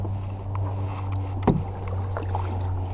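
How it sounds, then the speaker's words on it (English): A kayak paddle dips and strokes through the water on a lake while fishing, soft splashes and drips over a steady low hum, with one brief louder knock midway. "As I'm paddling through"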